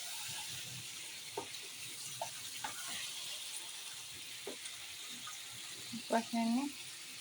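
Water is poured into a pan of prawns and pumpkin frying with spices, giving a steady faint hiss and sizzle with a few soft clinks and a brief louder splash near the end, and no talk.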